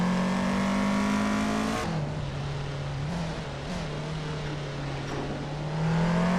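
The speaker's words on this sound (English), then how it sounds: "Mist 149 is driving a 1984 Audi Sport Quattro S1E2" A 1984 Audi Sport Quattro S1E2 race car engine roars steadily in a racing video game, with its pitch dropping as it shifts and then climbing again, loud and continuous with no talk.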